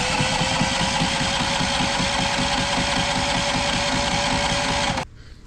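A Westinghouse 9500DF inverter generator, gas and propane capable, runs with a steady close mechanical drone and rapid even pulsing beat, then cuts out abruptly near the end.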